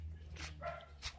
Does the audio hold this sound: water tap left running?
no